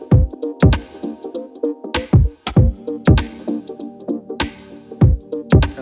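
Layered synth textures with sustained tonal chords and repeated percussive hits in a syncopated pattern, warm and spacious, no voices.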